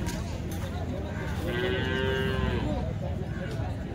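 A single drawn-out cow moo rings out over steady outdoor background noise at a Holstein Friesian and Jersey cattle market in Chalisgaon.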